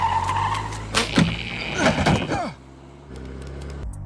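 Cartoon car in Family Guy revving and pulling away, engine and tire screech mixed with clattering effects, loud and close, then cutting to a quieter rumble.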